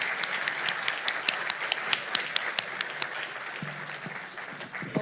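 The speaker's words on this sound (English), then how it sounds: "Please give a round of applause to our three speakers." Sustained audience applause at a cyber resilience lecture event, dense clapping with sharp individual claps standing out before gradually thinning toward the end.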